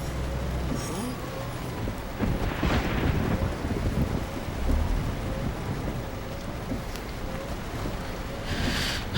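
Rain and thunder in Euro Truck Simulator 2: steady heavy rainfall hisses throughout, with a few low rolling thunder rumbles breaking through.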